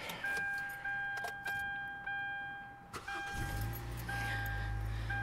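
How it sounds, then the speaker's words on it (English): A car engine is started on a hybrid supercapacitor battery after a year of use, with a few clicks and faint jangles first, then a short crank and a firm catch into a steady low idle, nearby and clear. "So let's start the car."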